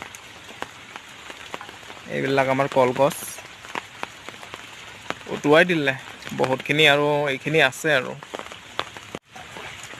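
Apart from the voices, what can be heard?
rain falling by a flooded river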